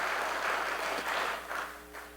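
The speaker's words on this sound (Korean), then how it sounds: "박수로 한번 격려해 주시기 바랍니다." A church congregation at an afternoon worship service claps in faint, distant applause for the pastor's wife, a soft steady patter.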